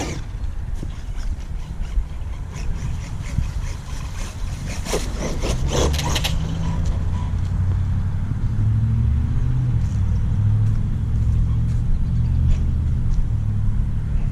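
An Arrma RC pickup-style truck drives around a backyard, its electric motor giving a loud steady whirring rumble that grows thicker midway and keeps going, with no one talking.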